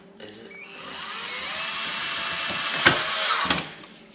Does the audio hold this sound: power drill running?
yes